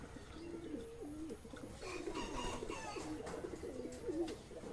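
Young pigeons coo in repeated soft, throaty phrases nearby, the calls rising and falling in a steady rhythm over faint background noise.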